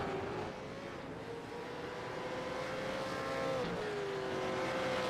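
Racing cars in a V8 Supercars sim race at Road Atlanta slow under a safety car, engines droning faintly at steady low revs, with one car's pitch gliding down as it eases off.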